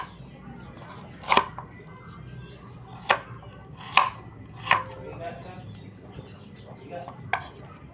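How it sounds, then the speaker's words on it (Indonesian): Knife chopping hard carrots with a dull blade, five or six sharp, separate thuds spaced irregularly over a low kitchen background hum, close and fairly loud. "Ini wortelnya aku potong seadanya aja ya, karena wortelnya ternyata keras banget dan si pisaunya itu kurang tajam"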